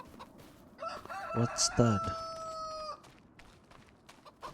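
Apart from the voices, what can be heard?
rooster crowing in video game Farming Simulator 25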